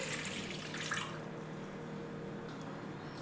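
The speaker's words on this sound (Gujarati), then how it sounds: "અહીંયા એક મોટું વાસણ લીધું છે બેક કરવા માટે એમાં એકથી બે ગ્લાસ જેટલું પાણી એડ કરશું" Water splashes and streams into a large steaming vessel for dhokla, a close, steady pour that settles into a soft trickle.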